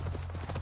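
Hooves of a horse in the video game Assassin's Creed Valhalla clop in a quick, steady rhythm, close and prominent over a low rumble from the game's soundtrack.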